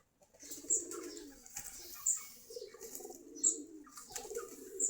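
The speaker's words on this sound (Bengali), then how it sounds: "আমাদের প্রায় ৪৫ জোড়া মতো কবুতর আছে" Pigeons in a loft of about forty-five pairs coo in low, repeated burbling phrases, with sharp chirps and brief wing flutters mixed in, all fairly faint and close.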